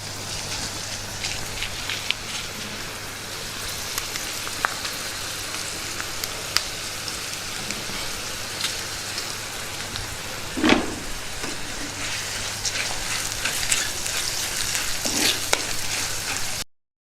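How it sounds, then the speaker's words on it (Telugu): Dried red chillies crackle in hot oil as a tempering for amaranth-leaf dal, a steady close sizzle running the whole way with a few brief clinks and stirs and no talking. "పోపు బాగా వేగింది"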